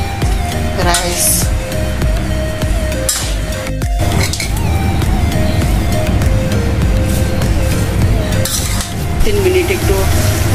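Cocola noodles with egg and soya are stirred in a pan, with steady sizzling and repeated scraping clinks of a utensil against the metal, continuous and close.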